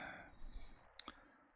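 A few quick, faint clicks of keys on a keyboard, a short isolated burst of taps after a soft rumble, with no voices.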